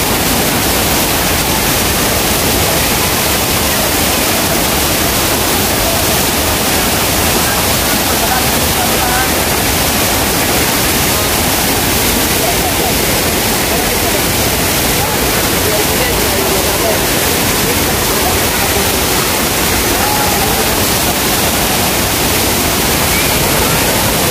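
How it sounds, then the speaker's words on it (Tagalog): Vera Falls in Bicol roars as a steady, loud, dense rush of falling water, unbroken and filling the whole stretch. "So welcome to Vera Falls."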